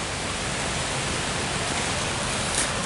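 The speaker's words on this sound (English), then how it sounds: "in a downpour, as you can tell." Heavy downpour of rain, a dense broadband hiss of falling water that stays steady and fairly quiet throughout the brief stretch, with no voices.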